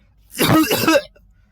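A couple of rough, throaty coughs in quick succession, close and fairly loud, with no talking around them.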